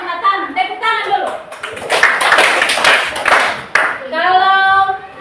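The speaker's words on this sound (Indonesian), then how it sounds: "Tepuk tangan dulu." Children in a church-style class clapping hands together on cue, a short burst of quick claps between stretches of an adult voice speaking, loud and close.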